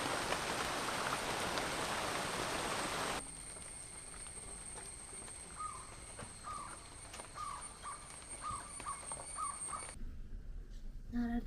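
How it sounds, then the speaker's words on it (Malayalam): Morning rain falling steadily, dense and loud at first, then easing to a softer patter while crows caw intermittently in the background; the rain cuts out near the end. "രാവിലെ മഴയാണല്ലോ."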